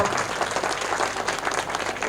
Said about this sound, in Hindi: अब दोनों हाथों से ताली बजाओ